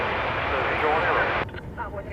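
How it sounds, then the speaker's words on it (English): An American Airlines Airbus A321 at DFW airport: a loud, steady jet engine roar and whine that cuts off abruptly about two-thirds of the way through, with faint voices after. "That is American 2177, destination San Francisco, an Airbus A321."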